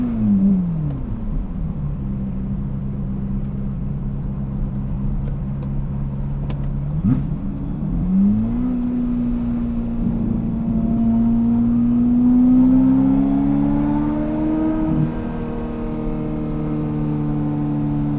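A Ferrari F355 Berlinetta with a gated manual gearbox revs hard in second gear on a road drive, its engine note rising and falling in loud, sustained harmonic sweeps, heard alone with no talking.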